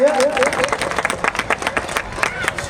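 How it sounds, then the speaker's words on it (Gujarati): An audience at a mass wedding ceremony in Jamnagar breaks into a dense burst of clapping, close and lively, with a voice briefly over the start. "આપણા આદરણીય રાઘવજીભાઈ પટેલને તાળીઓના ગડગડાટથી આપણે પેલા વધાવીએ."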